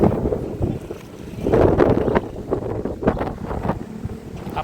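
Strong wind buffets the microphone in loud, rumbling gusts that swell and fade beside the Cagayan River, with a faint wash of water beneath.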